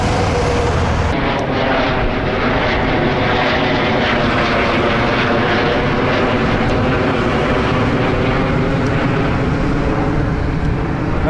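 Airplane taking off near Ulan-Ude, its engines roaring loud and steady from start to finish, a broad sustained rumble with no voices.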